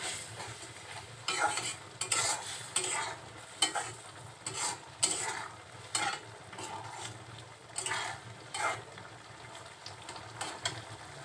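Shrimp tossed with cumin and chilli powder in a frying pan, a spatula scraping and stirring in uneven bursts over a steady low sizzle, close and moderately loud with no voices.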